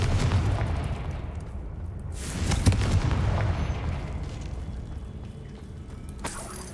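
A Confringo blast spell erupts in the Hogwarts Legacy video game, a booming fiery burst around the third second over a dense, rumbling low background, with a second sharp crack near the end.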